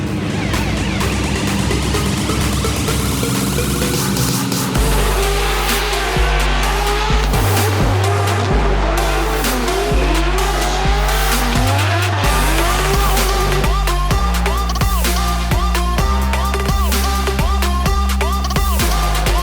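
BMW drift cars racing at Evergreen Speedway in Monroe, Washington, during a Formula Drift event, two differently built cars with loud, sustained engine roar, revving and bouncing off the limiter, plus screeching tire squeal throughout.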